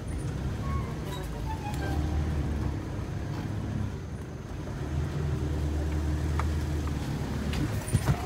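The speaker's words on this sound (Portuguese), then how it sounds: "eu vou sair com o carro." A car drives off, its engine a low, steady rumble with faint road noise throughout, fairly close but subdued, with no clear rise in revs.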